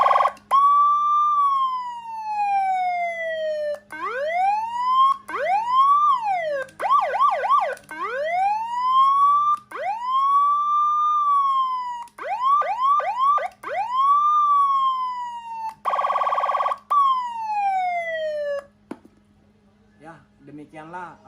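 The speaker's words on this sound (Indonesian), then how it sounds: "kita berhasil mengeksekusi atau memperbaiki sirine 12 suara yang suaranya tadi mengecil atau menghilang" A repaired 12-tone electronic siren module cycles through many different tones: long rising wails, rapid warbling yelps and a harsh buzzing burst, loud and close, ending abruptly.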